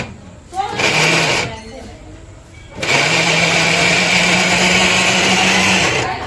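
A kitchen mixer grinder whirs loudly in two bursts, first a brief spin, then after a pause a longer steady high-pitched motor whine that runs for several seconds before stopping.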